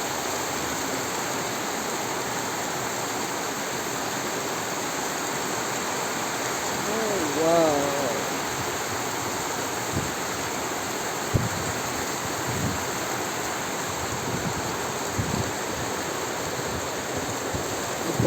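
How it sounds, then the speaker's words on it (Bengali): Heavy morning rain pours in a dense, constant roar that drowns the surroundings, with a few louder splashes and knocks standing out now and then. "অনেক জোরে বৃষ্টি নামছে।"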